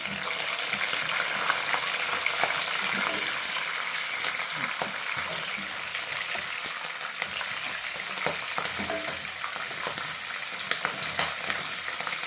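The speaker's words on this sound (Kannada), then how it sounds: "ಇವಾಗ ಸ್ವಲ್ಪ ಕರಿಬೇವು, ನೆಕ್ಸ್ಟು ಹಸಿಮೆಣಸಿನಕಾಯಿನ ಆ್ಯಡ್ ಮಾಡ್ಕೊಳ್ಳೋಣ. ಇದನ್ನು ಸ್ವಲ್ಪ ಫ್ರೈ ಮಾಡ್ಕೊಳ್ಳೋಣ." Curry leaves and green chillies crackle and sizzle in hot oil for tomato chitranna, a dense, continuous spattering hiss close to the pan with scattered sharp pops and stirring scrapes.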